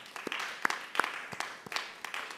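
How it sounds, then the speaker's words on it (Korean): A church congregation at a Friday worship service claps, giving a short burst of scattered, fairly soft handclaps. "야, 우리 한결이 박수 한번 할까요? 박수."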